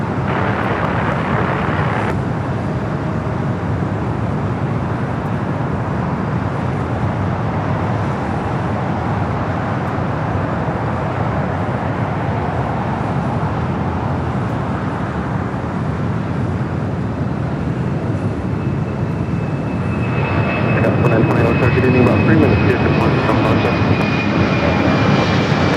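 A jet airliner, FedEx flight 12708, rolls down runway 25 left at Los Angeles International Airport with a steady, loud engine roar that swells toward the end, heard alone without talk.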